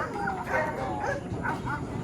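Dog barking and yipping close by during obedience training, with a few short bursts over continuous background noise and some voices.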